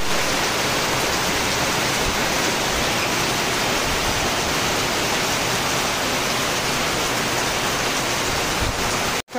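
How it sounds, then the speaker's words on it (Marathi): Heavy rain pours down in a dense, steady roar of hiss that stays loud and unbroken throughout, then cuts off abruptly at the very end. "जोरदार पाऊस पडत आहे"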